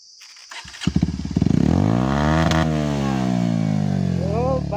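A motorcycle in a forest fires up and revs hard, the engine note climbing into a loud, sustained roar that holds steady at high revs, close by and dominating everything else.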